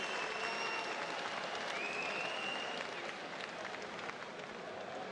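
A boxing arena crowd applauding and cheering after a hard round in a heavyweight bout, a dense continuous roar of clapping and voices at a distance, steady throughout.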